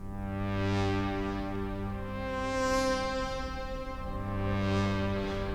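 Slow arpeggiated patch from the Cherry Audio Trident MkIII synthesizer, played alone: a sustained, harmonically rich tone with a steady low pitch and a bright sweep that rises and falls twice, continuous and close.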